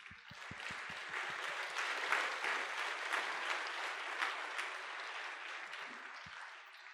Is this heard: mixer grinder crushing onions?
no